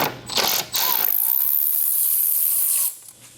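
A ratchet on a wobble extension turns out an air filter cover screw on a McLaren 720S, making a few clicks and then a fast, continuous close-up ratcheting buzz lasting about two seconds.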